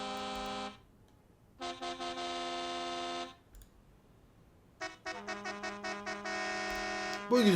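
A bus horn in the Bus Simulator Ultimate video game sounds in several clean blasts: a short one, a longer held tone, then a burst of rapid repeated honks and a final sustained blast, loud and alone.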